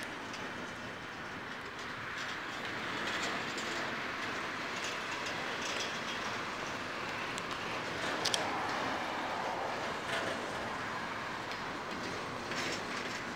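Freight train led by a CSX AC6000 locomotive with a CSX ES44AH rolling past, a steady distant rumble with soft clickety-clack from the rail cars, moderately faint throughout.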